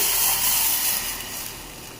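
Ground raw tamarind mixed with water is poured into a hot pan of tempered spices, a loud close rush of steam and hissing spray that slowly fades.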